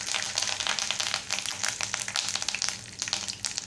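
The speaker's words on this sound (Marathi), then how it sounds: "आता आपण मोहरी घालणार आहोत, कढीपत्त्याची पानं घालणार आहोत" Mustard seeds and curry leaves hit hot oil in a pan, giving a dense, crackling sizzle with rapid popping spatters throughout, close and moderately loud with no voices.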